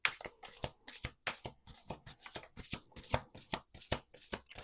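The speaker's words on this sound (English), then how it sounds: "Last shuffle." A deck of playing cards is riffle-shuffled repeatedly in quick, crisp bursts, each rippling flutter ending in a soft snap, close and steady with no talking.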